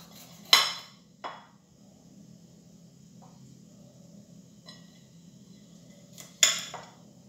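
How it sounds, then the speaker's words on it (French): A knife slices the ends off an aloe vera leaf on a hard surface, giving two sharp clicking knocks, a faint tap or two in between, and a final pair of cuts over quiet background hum. "on va commencer par couper les extrémités"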